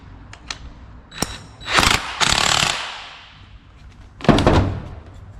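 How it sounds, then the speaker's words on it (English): A nut and lock washer are run down on a bolt on a car, giving a few sharp metallic clicks followed by three bursts of rapid ratcheting, close and moderately loud with quiet gaps between. "put the lock washer and the nut, and I'm gonna run that down"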